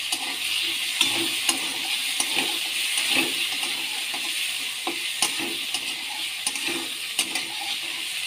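Potatoes frying in oil with black cumin seeds and green chillies for jhinge posto, a steady bright sizzle broken by regular clicks and scrapes of a spatula stirring in the pan.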